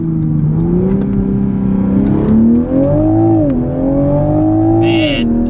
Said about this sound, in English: Alright, so we're gonna do a little first gear roll here.